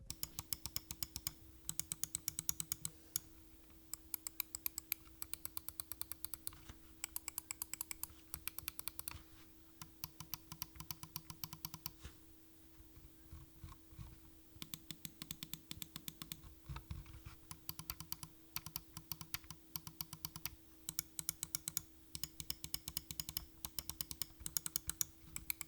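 Button clicks from a Mountain Makalu 67 gaming mouse, a lightweight model with a trimmed-down underside: close, crisp clicking in rapid clustered bursts and steady patter for about 26 seconds, with brief pauses between runs and no voices.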